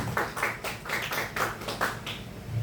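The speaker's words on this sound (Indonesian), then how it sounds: "Tepuk tangan dulu untuk kita semua." A group clapping together in a rhythmic run of about nine sharp, evenly spaced claps, fairly faint and with no other sound.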